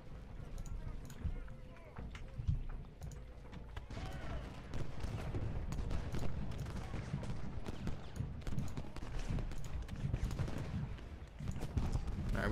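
Civil War infantry gunfire in the strategy game Ultimate General: Gettysburg, a steady rolling crackle of musket volleys with scattered sharp shots running throughout under continuous battle noise, with someone talking over it.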